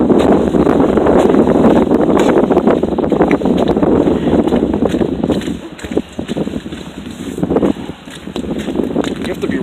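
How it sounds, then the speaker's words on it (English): Strong wind gusts during a slushy winter storm on Long Island roar and buffet the microphone in loud, broadband rushes that ease briefly before surging again. "now the wind is picking up. Yeah, it's gusting probably up to 20, 30 miles an hour."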